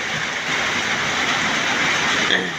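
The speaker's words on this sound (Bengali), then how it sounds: "এমন বৃষ্টি হইতেছে দেখেন, প্রচুর পরিমাণে বৃষ্টি হইতেছে।" Heavy rain falling outdoors, a dense, steady broadband hiss that holds at an even level throughout, loud and close with no speech over it.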